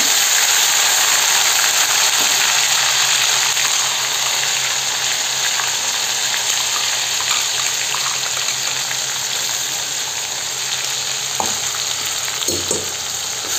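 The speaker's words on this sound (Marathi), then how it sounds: "मस्त परतू द्यायचा. ते कांद्याचा वास चालला जातो आणि भाजून जातो मस्त तेलामध्ये." Onions sautéing in hot oil for a village-style mutton masala curry, a steady loud sizzle and fry running throughout, with a few scraping stirs near the end and no talking.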